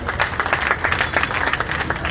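Women in a large crowd clap at an open-air political rally at Kila Gate in Gwalior, a brief burst of dense, fairly steady applause heard at a moderate distance.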